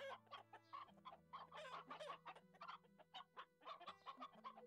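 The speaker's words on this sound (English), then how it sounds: "It's just the chickens clucking." Chickens in the online game Black Desert Online cluck repeatedly in short, rhythmic bursts over a low steady game hum, close and fairly loud, with no talking.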